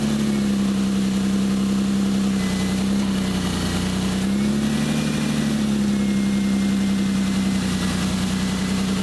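A 2001-2007 Ford Escape engine idles steadily after starting, with a low, even hum and a faint rattling vibration, running continuously close by with no voices.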